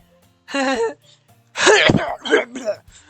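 Two bursts of coughing-like vocal sounds, a short one then a longer sputtering run, voiced by a person imitating a cough.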